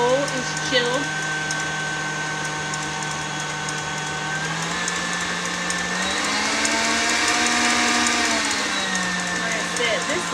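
A KitchenAid stand mixer whips cream in a chilled bowl, giving a steady motor whir that rises in pitch midway as the speed increases, with a voice talking over it.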